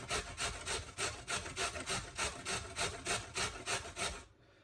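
A carrot grated on a small grater gives a steady series of close, loud rasping strokes, about three per second, evenly rhythmic until it stops abruptly at the end.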